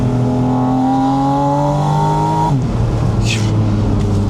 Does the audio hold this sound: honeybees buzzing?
no